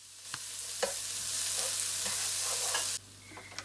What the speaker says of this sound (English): Add the chopped onions and stir them around for a few minutes